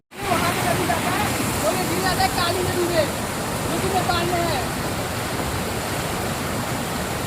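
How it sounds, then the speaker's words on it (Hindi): Fast-flowing water rushes steadily at Sahastradhara waterfall in Uttarakhand, a continuous broad roar with people talking faintly over it. "कितना पानी तेज आ रहा है"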